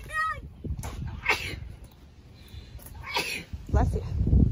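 A single sharp sneeze bursts out at the start, followed by people talking close by in a household setting.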